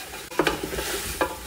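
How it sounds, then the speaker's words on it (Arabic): Meat frying in a pot with onion and garlic for a marqouqa stew, steady close sizzle broken by a few sharp scraping stirs of a utensil, with no voices. "قلب اللحم مع البصل والثوم"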